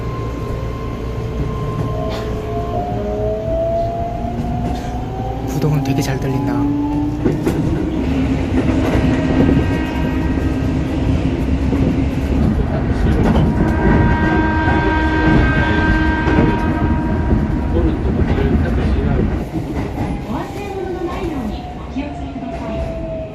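A Keihan Railway train departs a crowded station, rumbling and clattering steadily nearby with metallic squeals and hums, station crowd chatter and voices mixed underneath throughout.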